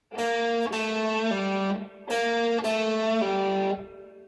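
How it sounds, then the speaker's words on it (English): An electric guitar plays a short, clean run of single notes, with a quick pull-off into the next note, repeated twice up close. "we're kind of dragging our finger slightly down and off the string to create a pull-off"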